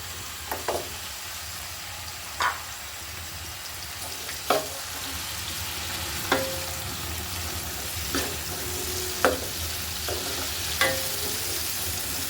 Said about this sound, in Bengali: এবার আমি বাকি পেঁয়াজগুলো দিয়ে দিচ্ছি।